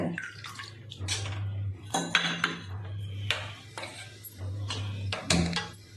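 Toor dal being rinsed in water inside a metal pot, with repeated splashing, swishing and clinking of the pot in close, irregular bursts over a low steady hum.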